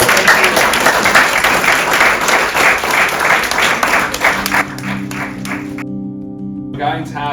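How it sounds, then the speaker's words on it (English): Audience applause at a live poetry Q&A event, dense clapping for several seconds that thins out, followed by someone speaking and a brief musical tone near the end. "Can we have a round of applause?"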